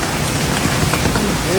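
Heavy stormy rain falling, a dense continuous patter of drops on surfaces, loud and close for a brief moment with no voices.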